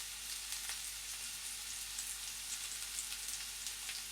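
Curry leaves, mustard seeds and cumin sizzle steadily in hot oil, a dense, even crackle with faint pops throughout and no voices.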